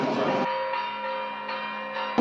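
A Portuguese church bell rung in the repique pattern, with a rope tied to a hook on the clapper and pulled to strike it. About four ringing strikes are heard, each with a long sustained, overlapping hum.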